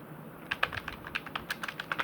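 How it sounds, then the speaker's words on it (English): Someone types an email message on a computer keyboard, producing a close run of uneven, light key clicks over a faint room hiss, with no voices. "Here you have to type the message."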